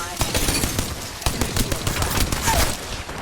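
The Rampage light machine gun in Apex Legends fires a dense, continuous burst of loud rapid shots that fill the whole span with no pause, close up and with no voices over it.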